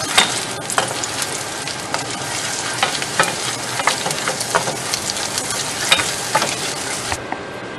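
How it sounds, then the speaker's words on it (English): Onions and garlic fry in a hot pan, crackling and sizzling close by, while a spoon stirs them with quick, uneven scraping taps. The sound cuts off abruptly near the end. "we're going to stir it for 1 to 2 minutes until the onion is golden brown"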